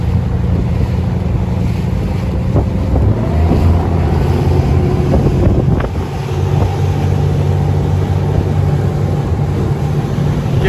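A 1999 Hacker Craft 30 triple-cockpit runabout cruises over open water at about 2300 RPM, its steady engine drone loud and close beneath rushing hull wash and gusty wind buffeting the microphone.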